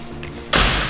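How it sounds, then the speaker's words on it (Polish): A door closing in a personal trainer's gym, heard as a single loud, close thud that follows quieter room noise. "przejdziesz sobie tu przez te drzwi"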